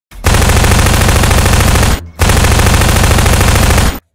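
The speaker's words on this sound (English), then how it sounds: "Oh no, I just heard a gunshot." Sustained loud automatic gunfire in two long bursts, near and harsh, with a brief pause between them and no talking.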